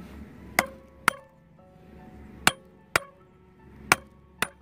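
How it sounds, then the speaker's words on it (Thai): A hammer knocks oysters loose from a seaside rock: five sharp, separate metallic-stony strikes spaced unevenly about a second apart, close and loud against a quiet background. "เราต้องใช้ค้อนเนี่ยนะคะตอกเข้าไปตรงข้างๆมันนะคะ"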